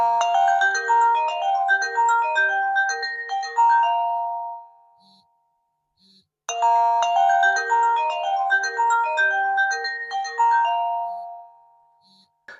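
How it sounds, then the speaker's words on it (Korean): A bright electronic melodic ringtone from a KOSPET Tank T3 Ultra smartwatch plays loudly, fades out, then repeats the same tune after a brief silence. "코스페 탱크 T3의 전화벨을 먼저 들려드리겠습니다"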